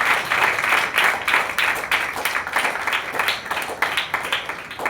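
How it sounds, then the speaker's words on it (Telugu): A congregation at a church service applauding, a dense, fairly distant clapping with fluttering peaks that continues throughout. "చప్పట్లు పడతాం దేవునికి, గట్టిగా పడతాం"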